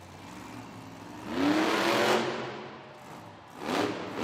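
A monster truck engine revs hard during freestyle stunts at a Monster Jam event in Oakland, rising in a loud roaring surge, easing off, then revving up briefly again over crowd ambience.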